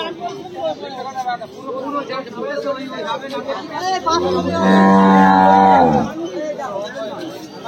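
Cattle at a busy livestock market, with one cow letting out a loud, long moo close by over the constant chatter and shouting of a crowd of people.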